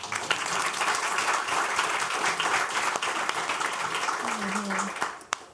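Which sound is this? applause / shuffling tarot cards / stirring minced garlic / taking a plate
applause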